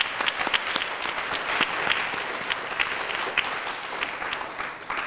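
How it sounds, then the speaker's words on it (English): An audience claps for student prize and grant recipients at a presentation event, a dense, even round of applause with scattered sharper claps that holds steady throughout, moderately distant and without talk. "we can give them a round of applause"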